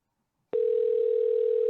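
After a brief silence, a telephone ring tone begins on an outgoing call, a loud steady unbroken hum that runs to the end.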